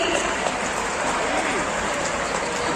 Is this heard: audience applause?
yes